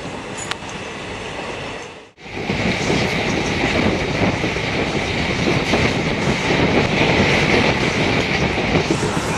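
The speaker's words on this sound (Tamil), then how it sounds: "கீழ் மதுரை ரயில்வே ஸ்டேஷனில் இருந்து டிபார்ட் ஆகியாச்சு நம்மளோட மதுரை ராமநாதபுரம் எக்ஸ்பிரஸ்" Madurai–Ramanathapuram Express pulling away from Keezh Madurai railway station, a steady loud rumble of wheels and carriages with rhythmic clatter building after a brief pause near the start, no voices.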